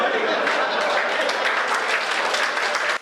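An audience at a comic poetry recital bursts into sustained applause, a dense, loud wash of many hands clapping that holds steady for about three seconds before cutting off abruptly.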